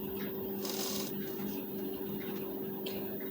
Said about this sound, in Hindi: ब्लाउज के गले को ढीला रखेंगे, पट्टी को खींचकर सिलाई चलाएंगे